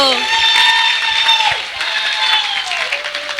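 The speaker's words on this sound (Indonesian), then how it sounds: "Tepuk tangan dulu." An audience of university students applauds quiz winners at a campus event, with sustained, full clapping and cheering under a faint tonal ringing, mixed with a bit of crowd chatter.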